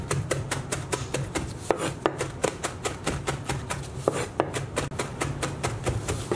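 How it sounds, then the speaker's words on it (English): A knife chops fresh parsley on a board in a quick, steady rhythm of crisp close taps, with no voices. "all we're going to do is finally chop up our parsley"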